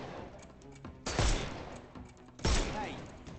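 Two heavy gunshots ring out in Sherlock Holmes Chapter One, each a loud booming crack with a decaying tail, spaced over a second apart amid faint background sounds.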